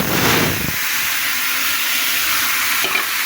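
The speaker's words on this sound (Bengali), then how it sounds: "কাঁকড়াগুলোকে ভাজার জন্য তেল দিয়ে দিলাম" Crabs coated in turmeric and salt frying in hot oil, a loud, continuous sizzle and hiss that hits hard at the start and then settles into a steady crackle.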